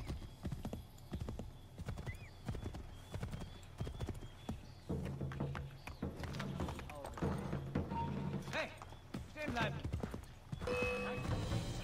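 Horse hooves clip-clop steadily in Assassin's Creed 3, a rhythmic gallop at close range with occasional whinnies, under someone talking.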